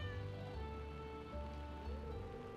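A stray black cat in Stardew Valley meows in a steady, drawn-out game sound over looping background music, clear and fairly close, with no talking.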